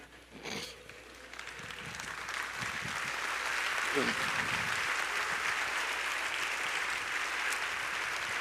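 Congregation applause inside a Baptist church service at Igreja Batista Lagoinha, starting lighter with a voice over it, then swelling into sustained, dense clapping that carries on steadily to the end.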